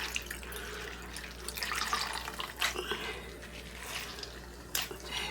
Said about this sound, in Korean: 차가운 물에 담가준 시금치는 바로 물기를 꼭 짜줘야 돼요